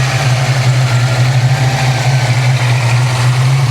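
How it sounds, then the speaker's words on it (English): A supercharged 347 stroker Ford Mustang GT idles loudly up close, a deep steady engine rumble with a thin, constant supercharger whine riding above it. "You can hear that supercharger whine."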